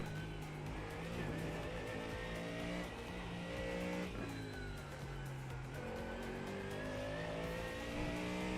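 Ford Mustang race car in a racing video game lapping the Nordschleife, its engine droning steadily with rising and falling revs, shifting pitch and brief tire squeal, loud and continuous.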